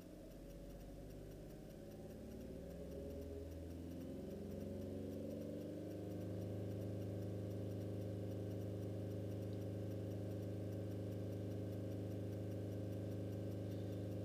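A Skoda Fabia Combi 1.2 CRI diesel engine revs with no load, its drone climbing slowly and unevenly at first, then settling into a steady, loud hum with ticking and no talk.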